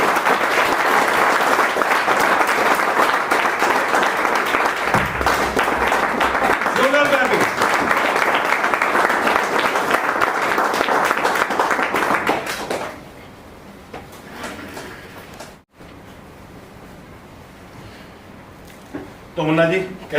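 Loud, dense audience applause welcomes a guest onto the stage at a student review event, sustained for about thirteen seconds before dropping away to a quiet room with faint movement.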